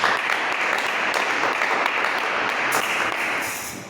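A church congregation applauds during a worship service, a loud sustained wash of many hands clapping that holds steady and fades near the end, with no talking.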